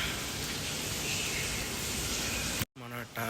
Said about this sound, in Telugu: వాన చూడండి, పడింది పడినట్టే ఉంది రాత్రి నుంచి. గ్యాప్ లేకుండా పడుతుంది వాన మాత్రం.